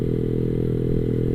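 Yamaha R15 v3 motorcycle fitted with a replica Arrow racing exhaust, CO not yet tuned, idling close by with a steady, throbbing low drone that holds even throughout.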